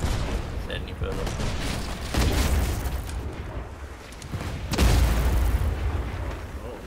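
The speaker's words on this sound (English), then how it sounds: "the mortar's too OP against infantry damage" Mortar fire aboard a ship in the pirate game Blazing Sails gives two heavy booms a few seconds apart, deep and rumbling, over a constant noisy backdrop of battle and sea.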